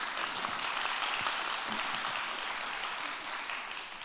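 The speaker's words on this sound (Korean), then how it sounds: "박수 한번 주세요." A conference audience at a financial industry session applauds, a dense, even patter of many hands that is fairly soft and distant and tapers slightly toward the end, with no talk.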